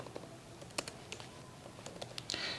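Keys clatter on a computer keyboard as a comment is typed, quiet and close, in short irregular bursts of clicks with no talking.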